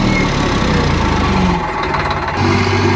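Eicher 551 tractor engine running at around 2000 RPM with a rotavator: a loud, steady diesel drone with a short dip in intensity before returning to full throttle.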